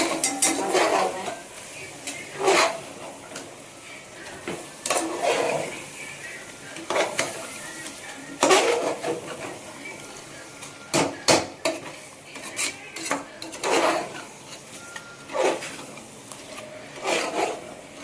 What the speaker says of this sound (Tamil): அப்புறம் மிக்ஸிங் நல்லா மிக்ஸ் பண்ணிக்கோங்க